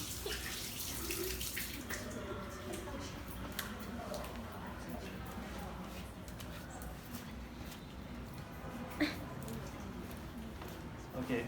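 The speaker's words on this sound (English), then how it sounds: "I'll wash my hands first." Water runs from a tap while hands are washed beneath it, a steady splashing hiss with small changes in flow, heard close in a kitchen where burger patties are being prepared.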